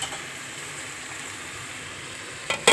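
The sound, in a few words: stirring and frying rice in a pan with salt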